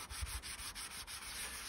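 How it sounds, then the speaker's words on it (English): Wet sandpaper rubbed in circular motions over a boat repair patch, a close, steady scraping hiss with a regular pulsing rhythm, quiet, no talk. "dip the sandpaper in the water, and then just start off a circular motion"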